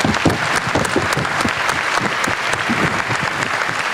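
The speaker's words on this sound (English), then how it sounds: "I would like to give my panelists a round of applause" Applause from the audience at a ministerial summit on sustainable development goals and bamboo, honoring the panelists: loud, dense and continuous clapping from a large crowd that holds steady for the whole stretch without speech.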